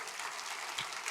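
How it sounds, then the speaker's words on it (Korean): A church congregation clapping in encouragement during worship, a brief, dense patter of many hands at moderate loudness with no voices over it. "보고 있을 이 형제 끝까지 힘내라고 박수로"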